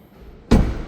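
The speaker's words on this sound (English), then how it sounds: "let's shut this door." A single solid thump as the door of a 2025 BMW M340i shuts, loud and close after a brief quiet lead-in.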